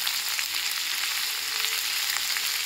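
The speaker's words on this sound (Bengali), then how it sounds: "এরপর এগুলো আমি আস্তে আস্তে মিডিয়াম আঁচে এগুলো ভাজতে থাকবো।" Mixed vegetables for chili chicken fry in oil over medium heat, giving a steady, close sizzle and crackle that runs unbroken throughout.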